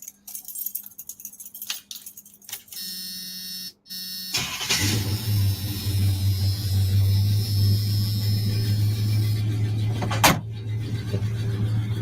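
A square-body Chevrolet Sierra Grande truck, a Fall Guy replica, cranks over after a jangle of keys and settles into a loud, steady idle with a deep low rumble that continues to the end.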